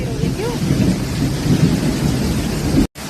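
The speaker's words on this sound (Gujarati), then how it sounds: "આમાં તો નાસિકમાં એટલો વરસાદ આવ્યો રે આવ્યો" Heavy monsoon rain pours in Nashik with rolling thunder, a loud continuous roar of rain and low rumbling that drops out briefly near the end before resuming.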